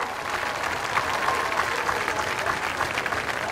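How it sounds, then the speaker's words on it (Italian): An audience at the Cantagiro show in Catanzaro applauds loudly and steadily, a dense wash of clapping hands that holds at full strength throughout. "Mamma mia, ma fatevelo questo applausone,"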